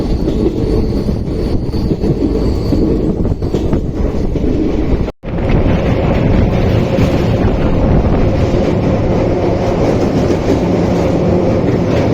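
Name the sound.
Wodeyar Superfast Express train passing Srirangapatna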